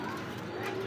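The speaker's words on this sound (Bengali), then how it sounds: "এই যে ডাকতেছে নর কবুতর" A male pigeon coos close by in a breeding loft, giving a short, soft, throaty call with no one talking over it.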